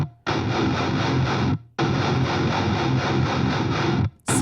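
Heavily distorted metalcore quad-tracked electric guitars played through an alternate amp simulation, loud dense chugging chords in two long bursts with abrupt stops between them, no voices.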